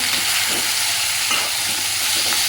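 Chopped onions and tomatoes frying and being stirred in a pan, giving a continuous loud sizzle with soft scraping stir sounds, no voices.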